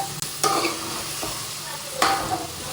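Grated raw mango sizzles in a pan over a low flame as a spoon stirs it, with a steady close frying hiss and a couple of sharp scraping strokes.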